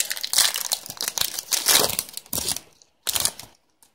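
Foil wrapper of a Pokémon Phantom Forces Mega Manectric booster pack crinkling and tearing open close by, a run of dense rustling bursts broken by short pauses.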